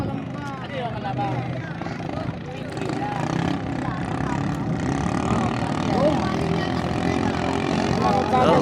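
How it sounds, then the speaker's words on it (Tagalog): An engine sputters and misfires, uneven and rough as it labours, heard amid outdoor race commotion with people talking loudly over the noise. "Ay, pumapalya ang makina."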